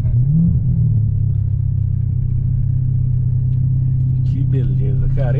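A Mercedes-Benz C63 AMG sedan's stage 2 tuned 6.2 V8 rumbles loud and close in a deep, steady burble with a slight rise at the start, and a voice briefly comes in near the end.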